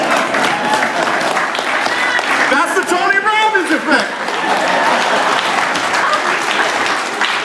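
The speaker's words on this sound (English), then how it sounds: "You just want to applaud them for standing?" A keynote audience at a young professionals summit in Bend, Oregon applauds steadily throughout, a dense sustained clapping from a large room, with a voice speaking briefly over the middle.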